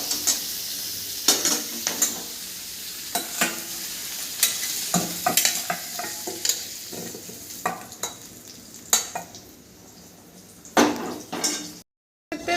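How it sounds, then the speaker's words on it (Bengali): Potatoes frying lightly in hot oil in a pan give a steady sizzle, with frequent sharp scrapes and knocks of a spoon stirring against the metal, loud and close throughout. "আর আলুটা কিন্তু আমি হালকাভাবে একটু ভেজে নেবো"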